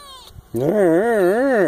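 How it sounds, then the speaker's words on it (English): A cat lets out a single drawn-out, wavering meow close by in an off-grid kitchen, after a brief faint sound beforehand. "That cat is not starving."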